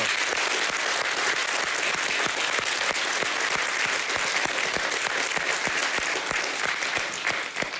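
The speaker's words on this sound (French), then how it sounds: "On peut les applaudir." A crowd at a Halloween night party applauds in a long, dense, even roll of clapping with sharp individual claps standing out, sustained for several seconds without speech.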